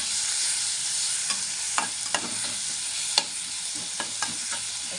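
Chopped tomatoes frying in a pan for rava upma, a continuous close sizzle with scattered scrapes and taps from a spoon stirring at irregular moments.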